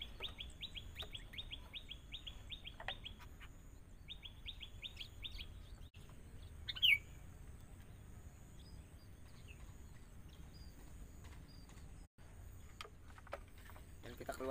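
Sooty-headed bulbuls (kutilang) in a wooded outdoor spot give a rapid run of high chirps at the start, then sparse, quieter calls over a faint hiss, with one brief louder burst midway.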